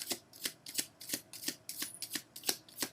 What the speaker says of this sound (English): They do really shuffle very nicely